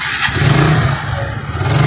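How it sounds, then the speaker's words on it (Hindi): A motorcycle engine starts and settles into a steady, rumbling idle close by, loud and continuous with no talking. "करते हैं बाइक स्टार्ट।"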